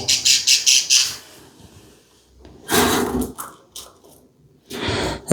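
Birds let out a quick run of rasping squawks, then after a pause more harsh bursts and scuffling noises follow nearby.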